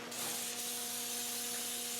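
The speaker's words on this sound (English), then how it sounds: "Get it on there, spray it on, don't care." Rustproofing spray hisses steadily and loudly from a close-up aerosol onto a Land Rover 130's winch connections, one continuous burst with no pauses.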